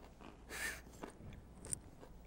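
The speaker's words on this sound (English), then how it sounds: "Very crispy. Good crunch." Someone bites into a crispy McDonald's chicken nugget, giving one faint close crunch followed by a few soft chewing crackles in a quiet room.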